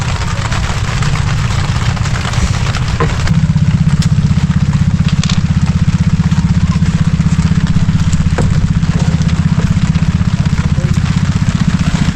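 A loud engine runs steadily at close range, a low rumbling drone that grows slightly heavier partway through and continues without pause.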